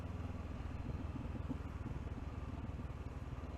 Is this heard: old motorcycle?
yes